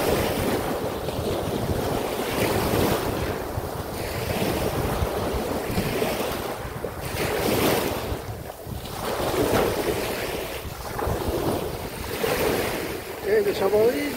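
Rough sea waves surge and break at Al Jassasiya beach in Qatar, rolling in repeated swells under heavy wind buffeting on the microphone, with faint voices of people nearby.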